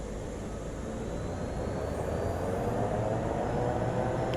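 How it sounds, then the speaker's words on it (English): A Pilatus PC-12 turboprop takes off in MSFS 2024, giving a continuous loud engine drone with broad rushing noise and a faint rising whine, steady throughout without any voices. "Oh, I like the sound of this plane."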